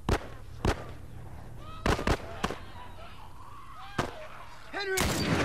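Mounted gun in The Last of Us firing loud, sharp bursts at irregular intervals, with a final shot ringing into a sustained rumble, over a low steady background hum.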